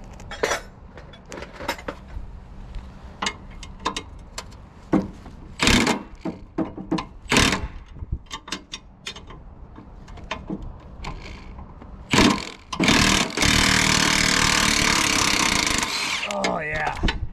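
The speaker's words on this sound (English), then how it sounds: "these Matco wrenches are sweet" Metal wrench work on a classic Ford F-350 truck using Matco wrenches: scattered clanks, ratchet clicks and tool knocks, then a loud sustained whirring or grinding stretch near the end.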